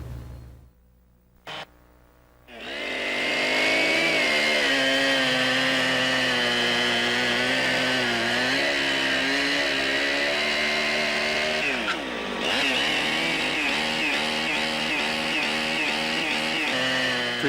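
A chainsaw used in log cabin building starts after a brief sputter and then runs at a steady, loud, high-pitched roar, dipping briefly as the throttle changes before revving on.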